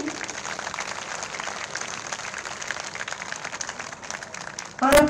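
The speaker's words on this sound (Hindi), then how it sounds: "सभी का स्वागत एक बार जोरदार तालियों से आप सब कर लें" Audience applause welcoming guests at a ceremony for a Berger Paints manufacturing unit, steady moderate clapping from a crowd lasting throughout, with a brief louder burst at the end.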